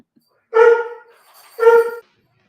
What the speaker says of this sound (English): so the dogs are barking